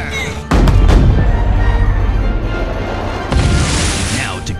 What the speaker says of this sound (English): Prepare all cannons, now!